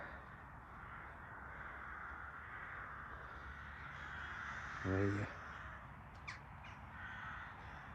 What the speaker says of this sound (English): crows are fighting with the sparrowhawks over there.